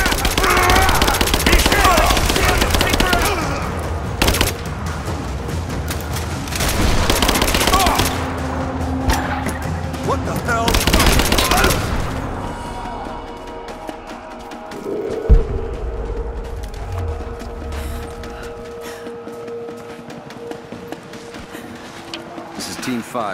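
Gunfire in the video game Rise of the Tomb Raider, loud bursts of rapid automatic fire and shots amid battle noise, with game characters talking, fading to quieter ambience with a single sharp bang later.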